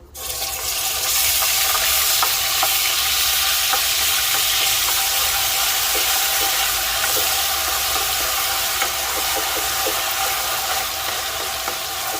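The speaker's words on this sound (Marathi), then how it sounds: "आता आपण त्याच्यामध्ये कांद्याची पेस्ट टाकून घेणार आहोत" Onion paste dropped into hot oil in a home kitchen, frying loudly with a dense, steady sizzle and crackle that bursts in at the start and holds evenly throughout, close by, with no talk.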